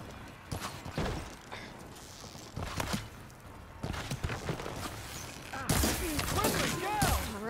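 Scattered bursts of gunfire in the game Horizon Forbidden West, several sharp cracks spread unevenly across the stretch, mixed with clattering movement and busier overlapping action near the end.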